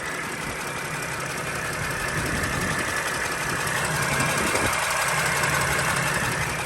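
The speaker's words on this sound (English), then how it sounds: "So as you can hear, chugging along as I pulled everything open." A Sprinter van engine idling roughly under an open hood, a close, steady chugging rumble with uneven knocking and vibration continuing throughout.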